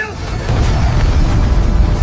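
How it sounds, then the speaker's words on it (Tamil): A big Diwali firecracker goes off with a loud, rough boom that swells into a dense, rumbling roar lasting over a second, set against busy background noise. "யாரோ பெரிய பட்டாசு கொளுத்திட்டாங்க"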